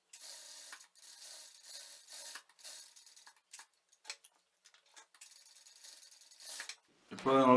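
A sewing machine stitches a shirt collar, running in close bursts of fast, even ticking with short stops between runs, ending in a brief louder noise.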